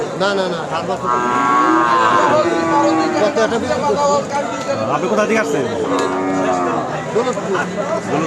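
Cows, some with calves, at the Aricha cattle market moo in long drawn calls, loud and close, while people nearby talk and the market chatters behind them.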